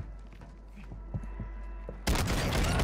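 Shotgun fire in a video game: scattered faint impacts and footsteps over a low rumble, then a sudden loud blast that fills the mix at the end.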